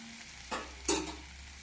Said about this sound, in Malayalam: മുളക് പൊടി എല്ലാം ചേർത്ത് നല്ലോണം ഒന്ന് അതിൻ്റെ പച്ചമണം പോണ വരെ ഒന്ന് ഇളക്കി കൊടുക്കാം.